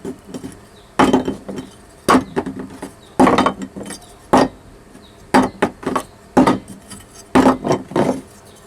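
A glued clay flower pot is dropped and knocked repeatedly to test the joint, giving a series of sharp, close hard knocks and clattering impacts in irregular bursts with short quiet gaps between.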